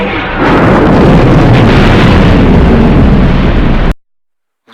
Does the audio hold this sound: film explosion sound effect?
yes